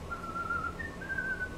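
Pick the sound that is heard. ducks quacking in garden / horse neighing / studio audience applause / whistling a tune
whistling a tune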